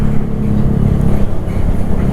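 A big car's engine rumbles steadily and loudly on a road as a Yamaha Aerox scooter moves to overtake it, a continuous low drone with no talk.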